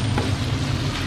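Chopped garlic and onion sizzle as they toast in rendered pork fat in a pan, a steady, close crackle of frying with no voices.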